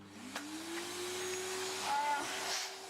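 Household vacuum cleaner running steadily and close by, a continuous broadband whoosh with a tonal motor whine that slowly rises in pitch as objects are sucked up.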